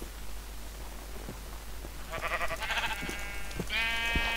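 Sheep in the Minecraft video game bleat a few times, the quavering calls rising near the end over a low steady background hum.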